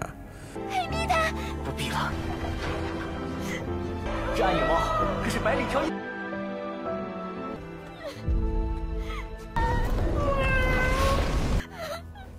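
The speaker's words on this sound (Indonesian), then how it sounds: "terutama ketika Hemi mengeong untuk terakhir kalinya" A cat meows several times in drawn-out, plaintive cries, rising over soft music while a narrator speaks in between.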